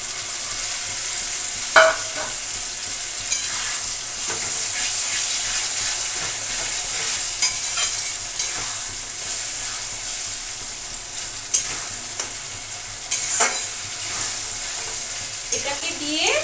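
Onion, garlic and ginger paste frying in hot oil for a potato and pea curry, a bright continuous sizzle punctuated by intermittent spatula scrapes and stirring knocks, close and clear with no voices.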